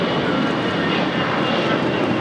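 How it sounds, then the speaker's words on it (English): An Allegiant Air Airbus A320 bound for Memphis takes off at LAX, a loud, close, dense jet roar that stays constant over a brief stretch with no voices. "2385 taking off to Memphis on an A320 in the Together We Fly livery"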